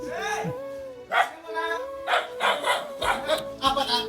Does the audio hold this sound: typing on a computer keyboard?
no